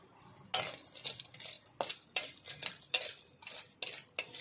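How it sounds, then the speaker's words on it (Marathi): Cinnamon and star anise are dry roasted in a pan, making a string of quiet, irregular scraping and clinking stirs of spoon against metal, close by with no talk. "आता आम्ही दालचिनी भाजून घेऊ"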